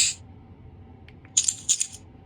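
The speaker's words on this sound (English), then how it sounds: "So coins." Metallic coins clink and jingle in a few short bursts, bright and close, with quiet pauses between the drops.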